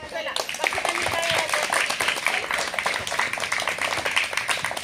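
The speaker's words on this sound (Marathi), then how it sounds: "बाकीच्यांनी टाळ्या द्या" A group of schoolchildren claps in quick, uneven bursts during a classroom game, a steady patter of hands close by with voices faintly mixed in.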